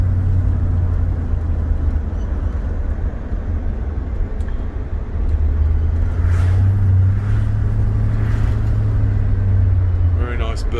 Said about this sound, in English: Very nice burble out the back as well.